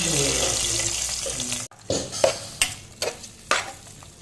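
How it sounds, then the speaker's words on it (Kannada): Hot oil with mustard seeds, garlic and curry leaves sizzles in a tempering pan, a close steady hiss that breaks off and gives way to several sharp metallic stirring clinks. "ಇಲ್ಲಿ ಒಗ್ಗರಣೆ ರೆಡಿ ಆಯಿತು ಎಣ್ಣೆ ಸಾಸಿವೆ ಬೆಳ್ಳುಳ್ಳಿ ಹಾಗೂ ಕರಿಬೇವನ್ನು ಹಾಕಿದ್ದೇವೆ"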